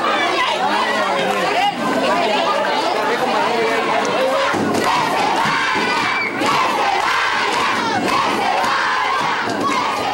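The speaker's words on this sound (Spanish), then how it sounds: "Las protestas aumentaron y los gritos eran más intensos." Protesters at a school crowd together and shout loudly and continuously, a dense roar of many raised voices with cheering bursts rising through it from start to finish.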